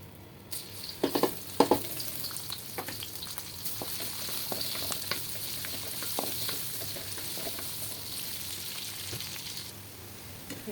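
Taro fries in mustard oil with a steady, soft sizzle and occasional stirring clatter, a few louder scrapes near the start, close but quiet throughout.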